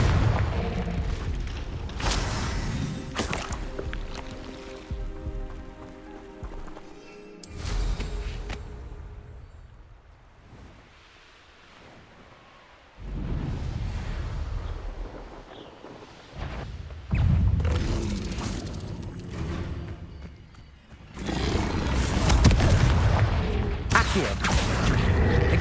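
Fiery Confringo spell blasts in Hogwarts Legacy, a run of booming impacts of varying loudness scattered through a busy fight, with shouted spell names over them.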